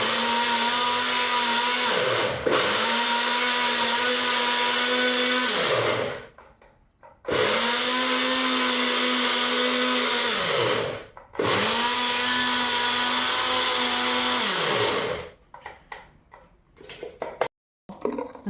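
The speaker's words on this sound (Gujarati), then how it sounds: "મસાલો પીસાઈને રેડી થઈ ગયો છે." A blender grinds spice masala in three long loud bursts of whirring motor, each winding down with a dropping pitch, followed by brief rattles and knocks as it stops.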